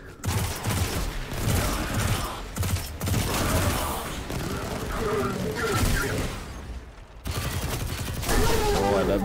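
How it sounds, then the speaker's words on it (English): Machine gun fire in Destiny 2, loud rapid bursts of automatic shots with mechanical clatter and booms, firing in long dense stretches broken by brief pauses. "Oh, I love machine guns."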